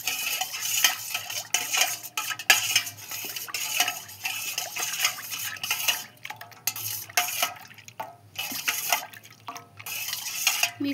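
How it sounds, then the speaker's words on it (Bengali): A homemade plant pesticide mixture stirred slowly by hand in a container, with a utensil scraping and clinking against the sides amid sloshing liquid, close and fairly loud, in uneven bursts with brief pauses. "এই মিশ্রণটাকে আমি এবার গুলিয়ে নেব, মিশিয়ে নেব, আস্তে আস্তে ভালোভাবে মিশিয়ে নেব।"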